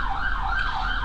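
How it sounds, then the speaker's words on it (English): An emergency siren wails in the background, a steady rising and falling tone carried over a low continuous rumble of distant traffic, with no voices present. "if you can hear the sirens at the background"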